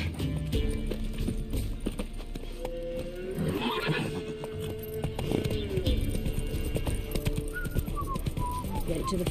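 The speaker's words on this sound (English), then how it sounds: "Come on, Roach. Slower" A horse in The Witcher 3 moves with steady clip-clop hoofbeats and a clear neigh, heard amid game ambience with bird calls and a brief whistle.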